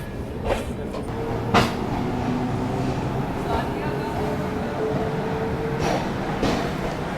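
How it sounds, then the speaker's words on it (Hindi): The Sampoorna Kranti passenger train creeps slowly past the outer approach to Danapur in India: a continuous low rolling rumble with occasional metallic clanks and squeals, and faint crowd noise in the carriage. "यहाँ पे अपनी ट्रेन दानापुर को स्किप कर रही है अभी धीरे धीरे"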